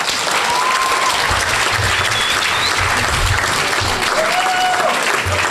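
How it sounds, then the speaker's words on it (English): Loud, continuous applause from an audience at a spring awards night, a dense unbroken roar of clapping with a few faint whistles rising above it. "Let's go ahead and give them a round of applause"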